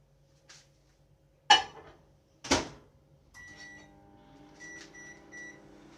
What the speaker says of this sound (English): put it in the microwave to warm it up